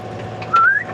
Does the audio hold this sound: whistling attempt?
yes